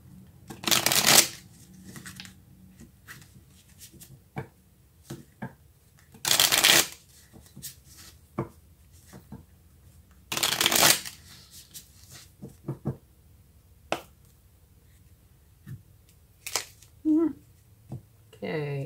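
Tarot cards shuffled in repeated loud bursts of riffling, separated by quieter handling, tapping and occasional soft speech.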